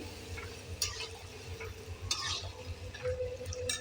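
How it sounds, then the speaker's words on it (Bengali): Washed jujube berries being stirred in a pan for a sweet-sour pickle, with soft scraping and clinks of the spoon against the pan over a low sizzle, a few sharper knocks standing out, no voices. "এবার দিয়ে দেবো এর মধ্যে এরকমভাবে কিছুক্ষণ নাড়িয়ে নেবো"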